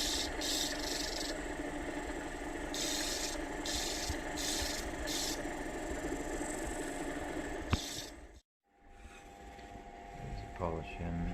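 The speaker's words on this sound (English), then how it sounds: "finishing it with the cerium oxide paste using the felt polishing wheel" A felt polishing wheel with cerium oxide paste polishes an agate pendant: a steady whirring machine with a rubbing, abrasive hiss runs continuously, briefly cutting out near the end before starting again.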